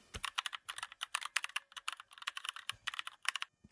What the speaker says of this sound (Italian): nel motore di ricerca andremo a digitare come sempre Gentiluomo Digitale